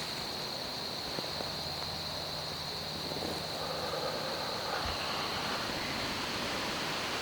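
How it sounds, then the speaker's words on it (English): Gusty outdoor wind swirls around an open Michigan public-land hunting spot, a steady broadband rush filling the whole stretch at an even level, with no voices and only a faint low thump partway through. "there's that swirling wind again, too."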